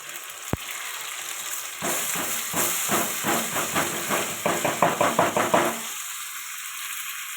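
Grated pointed gourd with ginger, garlic and green chili sizzles in a pan, a steady hissing fry punctuated by a sharp tap and then a run of rhythmic scraping stir strokes before the sizzle settles back alone.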